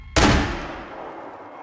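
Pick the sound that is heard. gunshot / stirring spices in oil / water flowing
gunshot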